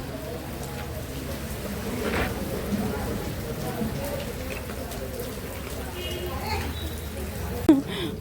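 Steady rain patters across a surface, with a soft hiss throughout and a brief louder knock near the end.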